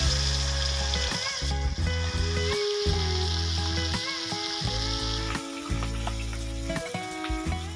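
Rupchanda fish fry in a pan with a dense, steady sizzle and crackle of hot oil, close and continuous, with occasional clinks and scraping.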